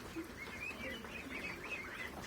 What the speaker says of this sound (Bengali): দেখুন আমার হাঁসের বাচ্চাগুলা, এদের বয়স আজকে 1 মাস 12 দিন।